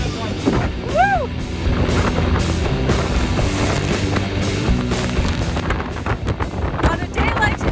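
Strong wind roars steadily across the microphone on a sailboat out on the water, loud and continuous, with a brief whistle-like sweep early on and a voice calling out over it.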